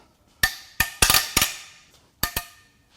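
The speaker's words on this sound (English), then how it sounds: "Now it's time to crack the head bolts loose." Cylinder head bolts on a 2016 Ford Focus 1.0 three-cylinder EcoBoost cracked loose with a wrench, a handful of sharp metallic snaps and clicks in two quick clusters, close and loud against a quiet background.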